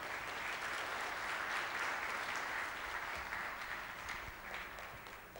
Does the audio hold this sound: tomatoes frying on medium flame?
no